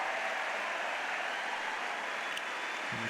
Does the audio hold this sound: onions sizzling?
no